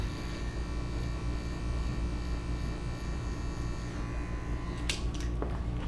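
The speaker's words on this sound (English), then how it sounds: "I'm going to start with the open face with this adjustable clipper" An adjustable hair clipper buzzes steadily up close while trimming hair at a 45-degree angle against the grain, a constant electric hum with a few faint clicks near the end.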